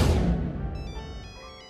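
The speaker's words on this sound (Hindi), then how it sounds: "अरे बहू, जरा देखो तो किसका फोन है।" A phone ringtone rings indoors in a home, a loud electronic tone with steady harmonic notes that fades and repeats in short melodic phrases over about two seconds.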